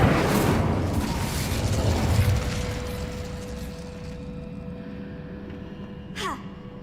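The Incendio fire spell blasts in a video game, a broad roaring whoosh that starts loud and fades away over several seconds, with a short sharp sweep near the end.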